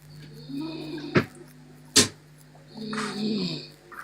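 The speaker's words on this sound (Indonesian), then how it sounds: "Ini suara ngorok siapa ya?" A person snores close by in two rough, drawn-out breaths. Two sharp thumps fall between them, with faint voices in the background.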